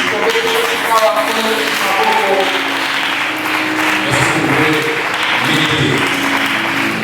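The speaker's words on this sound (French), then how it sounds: "Acclamons maintenant le Seigneur Jésus." A church congregation at a midweek French-language service applauds together in sustained, dense clapping that fills the room, mixed with crowd voices throughout.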